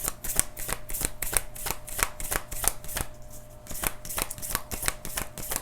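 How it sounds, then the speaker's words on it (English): Large oracle cards are shuffled in a rapid series of crisp riffling bursts, close and steady, with a brief pause partway through. "These cards are so huge. They can be a little bit hard to shuffle."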